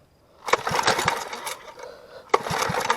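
A Predator 212cc engine swapped onto a Motovox MBX10 mini bike, long unused, fires up and runs rough and close, with two loud bursts of engine noise separated by a quieter dip.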